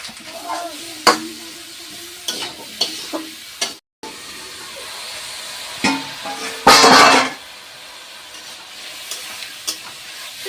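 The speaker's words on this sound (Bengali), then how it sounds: "সবজিটা আমার ভালোভাবে কষাই করা হয়ে গিয়েছে" Vegetables being stir-fried in a pan with turmeric and salt, with intermittent sharp stirring scrapes and clacks over a soft sizzle, and one louder burst of hissing near the middle.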